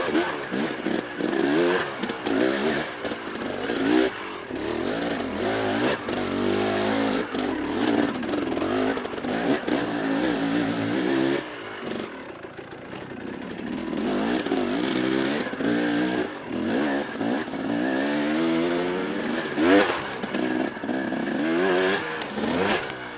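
Motorcycle fitted with an XTNG carburetor ridden at low RPM, a steady, close engine putter with uneven throttle changes and wind rush, briefly easing off midway before pulling again.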